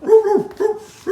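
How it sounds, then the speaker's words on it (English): A Dalmatian giving short, close, loud barks, three distinct yelping woofs in quick succession with brief gaps between them. "That's what Dalmatians sound like"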